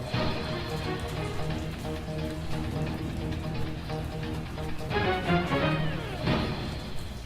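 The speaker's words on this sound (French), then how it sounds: "parce qu'il pleut" Steady rain falls as a dense, continuous patter, with a few sharper drips and clatters near the end, and no voices.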